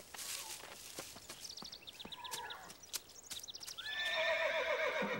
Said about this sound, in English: The sound of the horse startled Caillou.